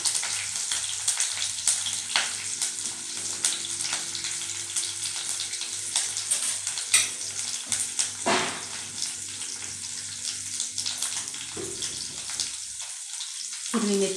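Curry leaves and green chilies crackle in hot oil over cumin seeds while a cabbage bhaji is cooked, a steady broadband sizzle running throughout with a few sharper pops and spurts, close and fairly loud.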